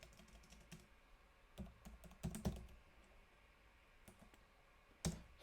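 Computer keyboard typing while setting up a folder structure for a React application, heard as scattered faint key clicks with a few louder bursts of quick taps, close and alone with no talk.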